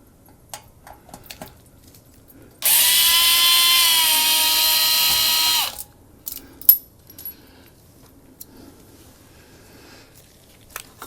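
A power drill runs in reverse at a low speed setting, backing screws out of a ceiling fan. It gives one steady whine of about three seconds, with small clicks and handling taps before and after.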